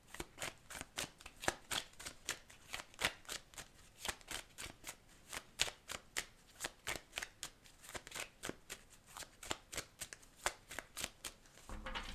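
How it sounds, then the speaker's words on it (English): A deck of tarot cards shuffled by hand in a steady run of quick, crisp riffling snaps, close and distinct, continuing rhythmically for several seconds without talk. "Let's pull the last few cards"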